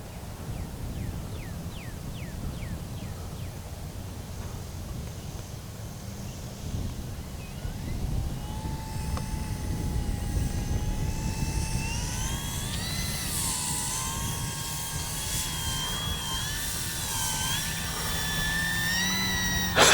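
An E-flite Timber SE radio-controlled airplane flies overhead with a constant airy rush and a thin electric motor whine that rises and bends in pitch as it passes, steady and fairly loud throughout.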